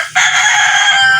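A hybrid rooster crows once, loud and close, in a single sustained call that starts sharply and holds to the end.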